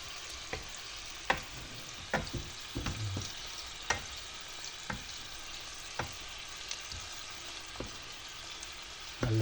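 Spaghetti con tuna with tomato gets stirred in a pan, quiet background sizzle punctuated by a series of distinct utensil clacks and scrapes at irregular intervals.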